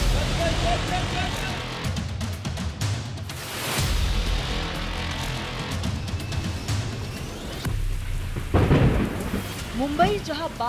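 Heavy monsoon rain and rolling thunder over Mumbai, a dense steady roar of rain with low rumbling bursts, traffic noise mixed in and a news voice talking over parts of it.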